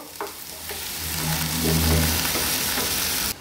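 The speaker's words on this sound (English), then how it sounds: "now let's saute the onions till we get rid of the raw flavor" Two finely sliced onions sauteing in a pan for a chicken curry, a steady sizzle and stirring that swells gradually and holds, with a low rumble underneath, then cuts off.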